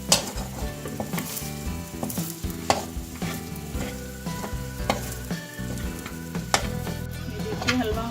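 Makhandi halwa roasting in a pan while being stirred, a steady close sizzle broken by repeated scraping clatters of the spoon against the pan, with no voices.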